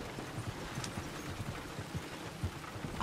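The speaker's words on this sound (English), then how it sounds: "I think the horse is getting skittish." Steady horse hoofbeats in the video game Red Dead Redemption 2 clip-clop at a walking pace over a constant low rumble, moderately loud and close.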